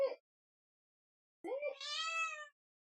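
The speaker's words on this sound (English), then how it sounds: "You're screamo kitty." A house cat lets out a loud, drawn-out meow after a short earlier chirp, clear and close with silence in between.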